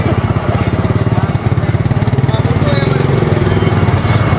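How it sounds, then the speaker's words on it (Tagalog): Motorcycle engines putter steadily and close while bikes ride through a wet market in Vietnam, a loud, chugging mid-pitched drone with crowd bustle behind it. "Kaya may mga kasalubong mo mga motor Parang highway din sa loob ng palengke."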